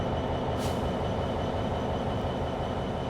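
A DB Class 66 diesel freight train pulling out of Stafford on the West Coast Main Line in a train simulator, a steady close rumble of engine and rolling wagons with a brief hiss near the start.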